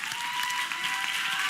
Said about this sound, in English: Thank you guys for big round of applause here for our guests.